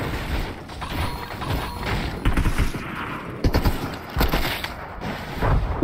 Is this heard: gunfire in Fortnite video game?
yes